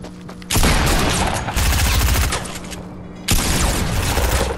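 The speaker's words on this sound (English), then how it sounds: "I finished him with the gun." Heavy bursts of gunfire in a Fortnite Battle Royale match, loud and close, with a rapid volley that cuts off and then resumes twice in quick succession.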